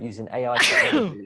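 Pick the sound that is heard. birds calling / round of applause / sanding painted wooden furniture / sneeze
sneeze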